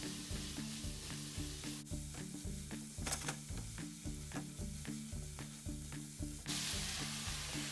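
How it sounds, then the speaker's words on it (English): Four chopped shallots and two cloves of chopped garlic sizzle in hot butter in a pan, a steady close frying hiss with a regular stirring rhythm and no talking. "into our butter we're going to go 4 chopped shallots and 2 cloves of chopped garlic"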